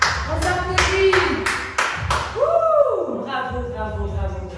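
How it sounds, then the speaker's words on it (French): Group applause ringing out at the end of a boxing class, sustained clapping from many hands with a coach's voice talking over it. "On s'applaudit."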